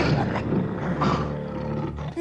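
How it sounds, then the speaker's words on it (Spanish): Ferocious tigers roar in a cartoon sound effect from The Simpsons, a loud, close, rumbling growl that runs throughout, with voices mixed in. "En todas las otras hay tigres feroces."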